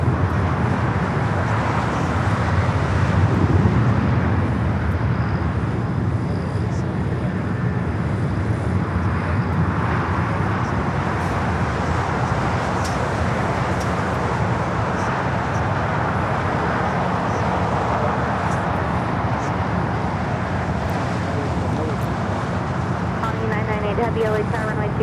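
An Air France Boeing 777 arriving at LAX from Paris: a continuous broad jet roar mixed with airport and road traffic rumble, steady and fairly loud throughout, with voices talking over it.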